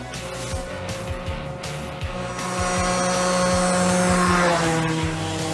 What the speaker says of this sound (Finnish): tuonne alamäkkeen on yli 70 kulki tuo mopo